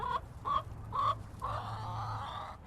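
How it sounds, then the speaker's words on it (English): Chickens cluck in a movable coop, or chicken tractor, on a farm growing greens: three short, fairly close clucks come in quick succession, then a longer, steadier stretch of fowl calls, with no speech. "you can see there's the chickens in what's called the chicken tractor, which is kind of a movable coop"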